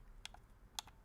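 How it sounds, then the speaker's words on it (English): A game controller D-pad pressed twice in quick succession, giving crisp, punchy plastic clicks up close against a quiet background. "The punchy click of a D-pad."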